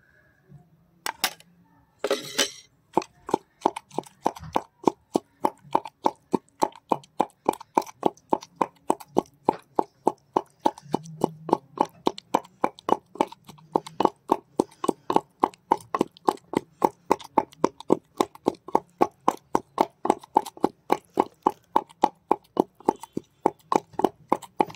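Soh Baingon dieng being crushed for a Khasi chutney from Shillong. After a couple of opening knocks comes a long, steady run of sharp, evenly spaced pounding taps, close and fairly loud, continuing without pause.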